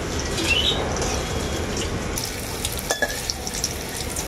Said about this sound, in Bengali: উচ্ছেগুলোকে আমি খুব ভালো করে ভেজে নিয়েছি, এখন তুলে নেব।